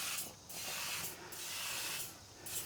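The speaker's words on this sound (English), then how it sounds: "and I give them a bit of a spray as well" Close, steady hissing of aerosol cooking spray onto crumpet rings in a frying pan while camping, in a few continuous bursts with brief pauses between them.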